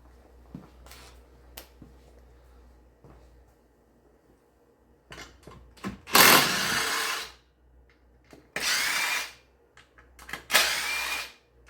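A power drill zips out 8mm bolts on a 5th-gen Camaro SS, with several loud bursts of whirring, each a second or two long, after a few quiet taps and clicks.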